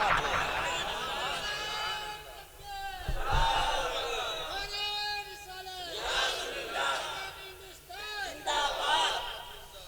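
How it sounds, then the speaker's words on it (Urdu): A large crowd at a religious gathering chants zindabad slogans in loud, rhythmic bursts of massed voices, rising and falling in repeated waves across the clip. "یہی زندہ باد کے نعرے لگاؤ."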